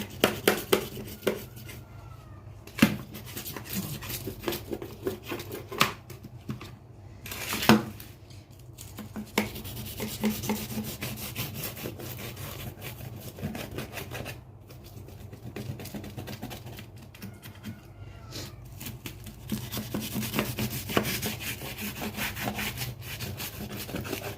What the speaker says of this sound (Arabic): تقطعها بالمنشار دوت، منشار الكيك التورتايه